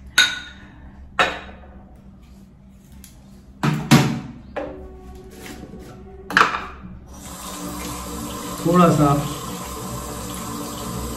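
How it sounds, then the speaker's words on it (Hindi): A running tap pours water while shaving soap is prepared for lathering with a synthetic brush, with several sharp knocks and clicks of the container along the way and someone speaking Hindi. "थोड़ी सी पानी की बूंदें मैंने इसमें डाल दी हैं।"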